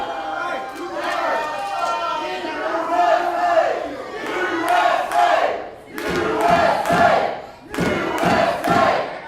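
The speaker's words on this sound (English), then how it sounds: "Starting a USA chant here, just in case you can't hear me, against the Canadian Red Devil." Wrestling show crowd chanting USA against a Canadian villain, loud rhythmic group shouts rising and falling in repeated bursts across the arena.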